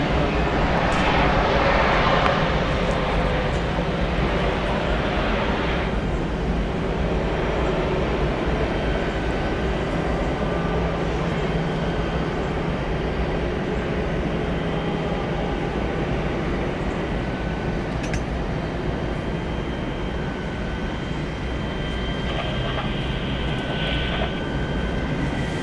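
A Boeing 757-200 airliner, 21 years old, comes in to land at Atlanta's Hartsfield-Jackson airport. Its engines give a steady, broad roar that lasts throughout and stays loud and fairly constant.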